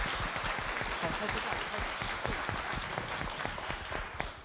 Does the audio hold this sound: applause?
yes